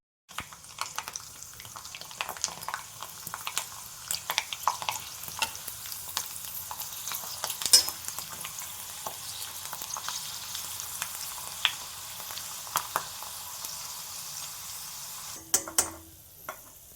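Steady crackling sizzle of sun-dried sabudana chakli frying in hot oil, continuous and fairly close, with occasional sharper pops and light stirring clinks.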